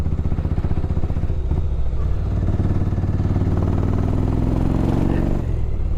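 A 2006 Yamaha Road Star motorcycle rumbles underway on a test ride, its loud, steady low engine drone swelling slightly as it pulls, with no talk over it.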